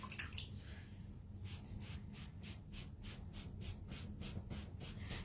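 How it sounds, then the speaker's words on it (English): A chalk transfer stencil is rinsed in a water bucket, sloshing in a quick, regular rhythm of splashy strokes close by. "I'm going to make sure I rinse it in and out of my water bucket."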